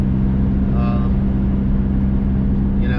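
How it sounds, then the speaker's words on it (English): A low, steady exhaust drone from a Dodge SRT-4 fills the cabin while driving, constant and fairly loud, with faint higher tones drifting in briefly. "the exhaust drones, not bad"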